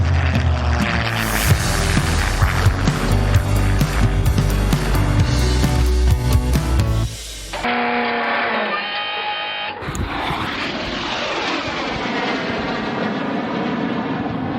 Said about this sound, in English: that is the sound of the Red Arrows